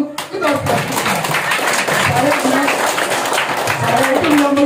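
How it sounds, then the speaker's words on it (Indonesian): An audience at a church gathering claps in sustained applause, a dense, loud wash of many hands that continues throughout with a voice audible over it. "Kita tepuk tangan untuk kedua-dua."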